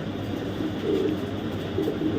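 A racing pigeon coos softly at close range, two low throaty calls over a constant background hum.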